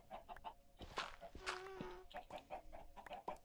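A Minecraft chicken clucks several times in short, irregular bursts, fairly faint against quiet game background sounds, with no speech.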